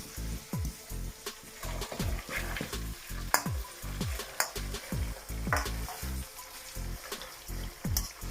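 Onions and pepper sautéing in a pan, a loud, close sizzle broken by repeated scraping stirs, with no voices.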